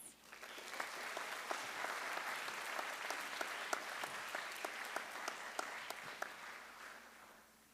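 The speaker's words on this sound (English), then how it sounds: "Please give him a round of applause." A crowd at a graduation ceremony claps steadily for several seconds, a dense patter of hands with a few sharper claps standing out, fading slightly at the end.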